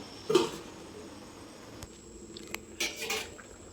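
Faint, uneven bubbling and soft popping from cauliflower curry simmering in a clay pot, with a few sharper splutters in quiet surroundings.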